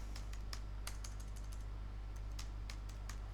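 Keys on a computer keyboard are tapped in quick, irregular clicks over a steady low electrical hum, near and fairly quiet, with no voices.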